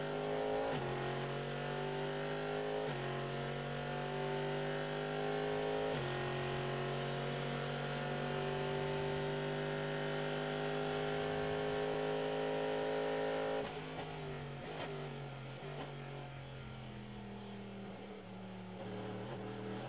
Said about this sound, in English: Sounds of the GM Chevy Corvettes.